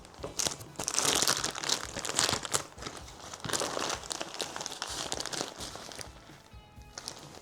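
Waterproof jacket stuffed by hand into the neck pocket of an ultramarathon running vest, close, continuous crinkling and rustling of the synthetic fabric in uneven bursts, tapering off near the end.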